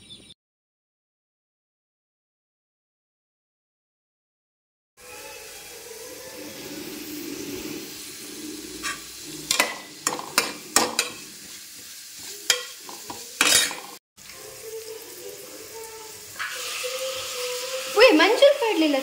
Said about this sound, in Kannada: ಬಾಣಲಿಗೆ ಎಣ್ಣೆ ನೀರುಳ್ಳಿ ಬೊಕ್ಕ ಬೆಳ್ಳುಳ್ಳಿ ಕಟ್ ಮಂತಿದ್ದೀನ ಶುಂಠಿ ಒಂದಿನ ಪೂರ ಪಾಡ್ದು ಫ್ರೈ